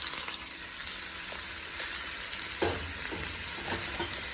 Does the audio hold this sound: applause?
no